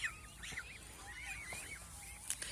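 Several geese honk in repeated bursts on a goose farm in Mohanganj, Netrakona, their calls moderately close over a steady background hiss with no speech.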